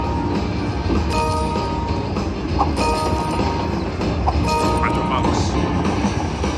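Train bonus feature chiming on a Las Vegas slot machine, its bright jingling tones ringing over a steady casino din while someone talks nearby.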